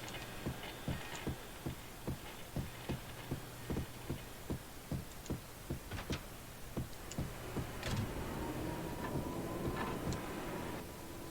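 A train in the Max Payne video game clacks along at a steady rhythm, with regular rail clicks repeating about twice a second over a constant rumble, and a rising whine building toward the end.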